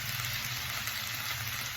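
Onions sauté in a hot pan for a chutney, a dense, steady sizzle and crackle heard close up without pause.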